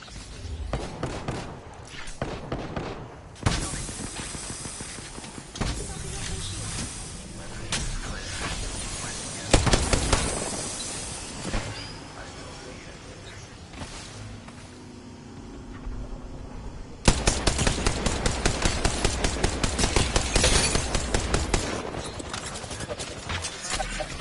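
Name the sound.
gunfire in the video game Apex Legends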